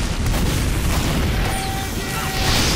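Explosion in Team Fortress 2, a sustained loud booming rumble that fills the whole span with no clear attack, dense low-end roar throughout.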